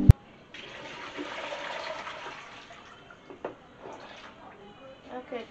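Grated coconut being washed in water in a home kitchen while making coconut oil, a running, splashing water sound of moderate loudness, then softer intermittent sloshing and drips.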